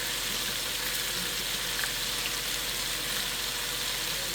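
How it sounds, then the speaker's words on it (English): Chopped onions sauté in a hot pan seasoned with garlic powder, giving a steady, even sizzle that runs unbroken throughout at moderate loudness, with no voices. "I'm stirring those, sauteing those"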